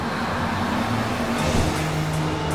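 Cartoon road traffic, a continuous low rumble of car engines and passing vehicles on a busy road, steady and fairly loud with no voices.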